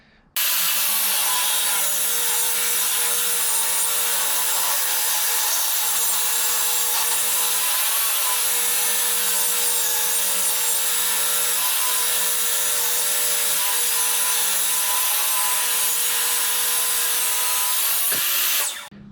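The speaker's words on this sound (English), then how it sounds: "cutting all that hardwood into strips" A saw rips hardwood into strips, a loud continuous close-up grinding whine with a steady motor hum that runs unbroken for nearly twenty seconds before cutting off, with no voices.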